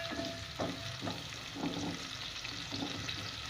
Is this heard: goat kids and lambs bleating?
no